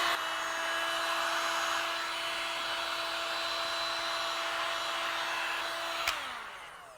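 A heat gun on its lowest setting blows steadily while softening the glue on a 1993-2002 Pontiac Firebird Trans Am headlight. The even, close whooshing hiss carries a faint whine, runs loud and unbroken, then cuts off near the end.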